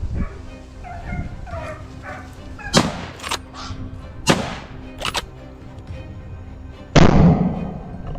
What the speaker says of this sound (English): A barrage of shots rings out